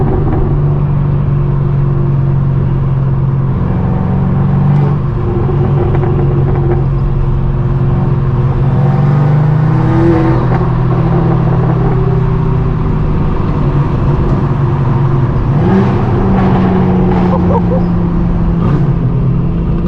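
Engines idle and rumble at a large car meet in Los Angeles, with a straight-piped BMW M4 G82 among the cars, a steady close low drone throughout with a few light revs and a dog barking.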